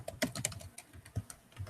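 Computer keyboard keys clack in a quick, uneven burst of typing, close and fairly quiet, with no voices.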